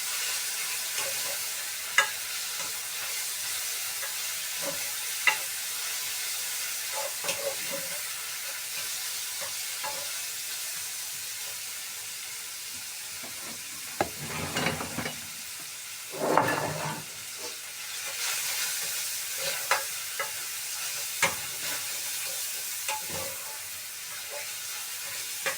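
Ham frying and being stirred in a pan, a steady sizzle with scattered scraping stirs and a couple of louder clattering bursts near the middle, with no talking.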